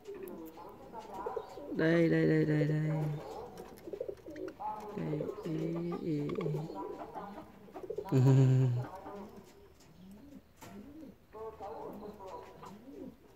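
Long-tailed parakeets giving cooing and chirping calls, several loud bursts with softer calls between, close by, while someone talks excitedly over and between them.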